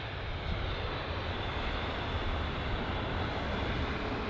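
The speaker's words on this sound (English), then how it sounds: "But the A320 CEO that's just touched down." An Airbus A320ceo airliner rolls out just after touchdown at London Heathrow, a broad continuous roar of engines and reverse thrust held steady at a moderate distance.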